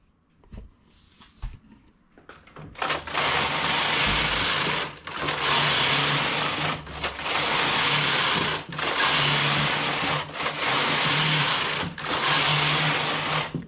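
Knitting machine working rows of a cardigan, the carriage sweeping back and forth in steady loud passes of about two seconds each, separated by brief pauses, close up and without speech.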